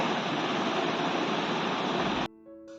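Water pours in a steady, rushing stream onto soaking chana dal for a couple of seconds, then stops abruptly, leaving a faint hum.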